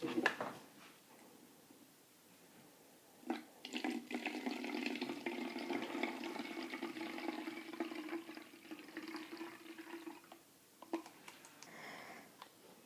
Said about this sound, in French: je vais rajouter de l'eau bien sûr